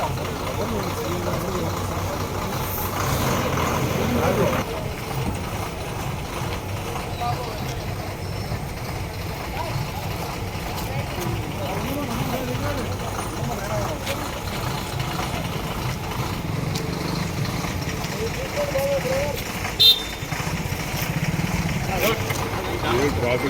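Heavy traffic stuck in a jam on a national highway near Khammam, with trucks idling in a steady, close engine rumble that lasts throughout, faint voices mixed in.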